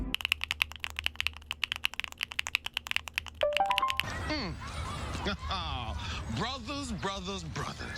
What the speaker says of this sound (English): as you can hear by that sounds really good